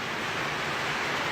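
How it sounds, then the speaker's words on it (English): Compressed air blasting through a hydraulic power steering line, a steady loud hiss of rushing air, close and unbroken for the whole brief moment. "put the air in this side, and then blow out this way"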